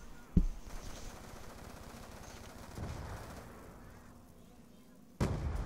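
Video game gunfire near a zombie horde: a sharp shot, then a low rumbling stretch and another booming burst near the end, fairly faint, with a voice talking at points.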